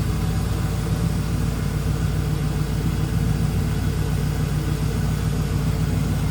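A 1999 Chevrolet Camaro Z28's 5.7 LS V8 idling steadily with a deep, even rumble, continuous and close, no voices.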